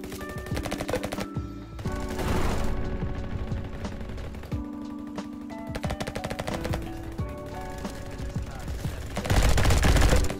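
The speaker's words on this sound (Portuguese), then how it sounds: "Barulho de kill engraçado pra cacete." Rapid automatic gunfire from a nighttime Roblox first-person shooter, repeated bursts of sharp cracks with short pauses between them, loud and close, ending in a denser volley.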